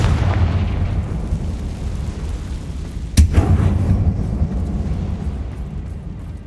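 A Confringo explosion spell goes off inside an abandoned mine in Hogwarts Legacy, a single sharp blast that bursts midway out of a low, steady ambient rumble and then decays into the background.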